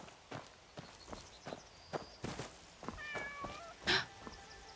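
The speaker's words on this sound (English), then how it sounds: "I hear a cat." A cat in the game Where Winds Meet gives a few short meows among soft footsteps and scattered clicks, with one brighter meow standing out near the end, fairly quiet overall and without talk.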